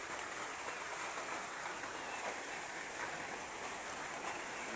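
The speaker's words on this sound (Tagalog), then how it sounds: "Pero malakas yung ulan, no?" Heavy rain pours steadily, a dense even hiss of falling water that stays constant throughout with no voices.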